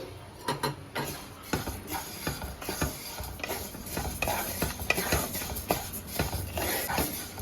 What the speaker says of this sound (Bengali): প্রথমে আমি মুগ ডালটা ভেজে নেব